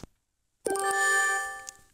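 A phone message notification chime rings once after a short silence, a bright close tone holding and fading over about a second, with a faint click just before it.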